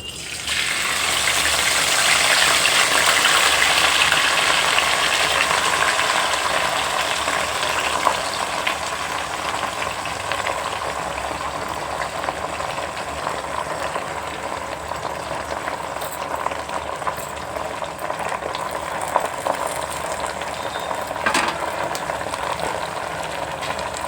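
Washed gongura leaves hitting hot oil in a pan, giving a loud, steady frying sizzle and bubbling hiss that begins sharply and continues evenly for the whole stretch, with no talk over it.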